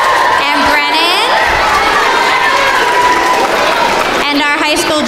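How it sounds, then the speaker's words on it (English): An audience at a school music concert applauds and cheers loudly and steadily, with high whoops and shouts rising over the clapping, especially at the start and again near the end. "one more round of applause for that"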